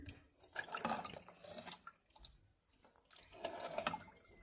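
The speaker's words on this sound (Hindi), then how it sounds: "ये साग हमने डाल दिया है, अब इसमें लस्सी डालेंगे।" Lassi poured into cooking mustard greens, a soft liquid trickle and splash in two short spells with a faint pause between, quiet and close.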